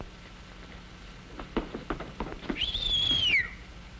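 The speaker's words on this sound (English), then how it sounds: "He is now ready to whistle at the girl to make her angry." A man gives a single rising-and-falling wolf whistle at a girl, preceded by a few soft scattered taps against a quiet background.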